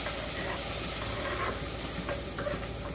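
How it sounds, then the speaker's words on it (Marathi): Onions frying in hot oil in a kadhai with cumin seeds, a dense, steady sizzle and hiss heard close up, with faint stirring scrapes underneath and no voices. "कांदा आपल्याला छान तेलात परतून घ्यायचा आहे"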